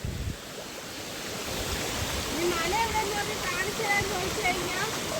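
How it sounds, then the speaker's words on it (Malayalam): Clean mountain water runs downhill past a village, a steady close broadband rush with a faint voice drifting through it. "മുകളിൽ മലയിൽ നിന്ന് ഒലിച്ചു വരുന്ന വെള്ളമാണ്"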